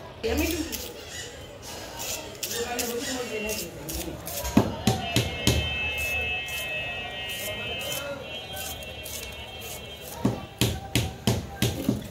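A knife chops onions finely on a cutting board, sharp rapid taps coming in quick bursts and irregular runs, close and fairly loud over low room noise.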